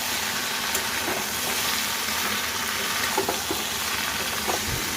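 Ground spices (coriander, cumin, turmeric and Kashmiri red chili powder) frying in a pan, a broad steady hiss and sizzle with occasional soft stirring scrapes, close and even throughout.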